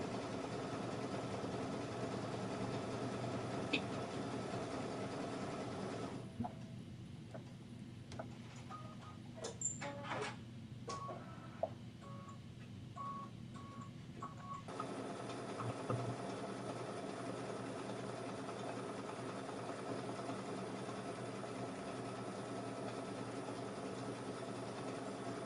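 An embroidery machine sews a satin stitch across the top bar of a design, working for about nine seconds in the middle of the clip over a steady background hum that continues before and after.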